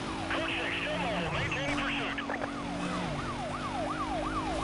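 Police sirens wail in the racing video game Need for Speed Most Wanted, several rising-and-falling tones overlapping over a steady car engine drone, loud and continuous throughout.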